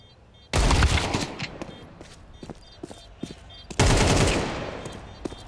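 Gunfire bursts in a Counter-Strike pro match crack out in two loud volleys, followed by scattered single shots and footstep thuds, with game ambience between.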